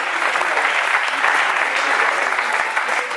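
Spectators at a corporate karting challenge's prize ceremony at the RKC track applaud the third-place podium finishers. Thick, continuous clapping rises and sustains throughout, close and loud.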